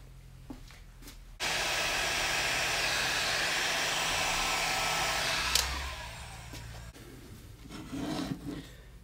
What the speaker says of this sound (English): And then let's get some heat shrink on the top of that.